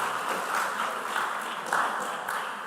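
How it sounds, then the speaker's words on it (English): Steady audience applause fills a school quiz competition semi-final hall, a sustained wash of many hands clapping at moderate volume with no clear gaps. "Can we give them a round of applause, please?"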